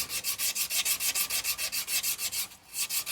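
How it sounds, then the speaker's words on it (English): Sandpaper rubs back and forth across a car brake hub surface on a SAAB 9-3, a close, rhythmic scratching of about twenty quick strokes with a short pause near the end. "So just something gentle like a bit of sandpaper just to get the"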